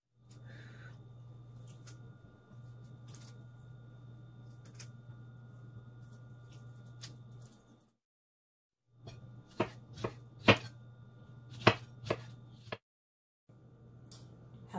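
Knife chopping strawberries on a board for pineapple-strawberry salsa, a quick run of sharp, close cuts with a steady hum behind them, then a brief pause.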